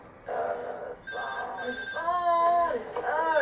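A telephone rings during a tense animated scene, its bright repeating tones rising out of busy background sound and voices over roughly three seconds.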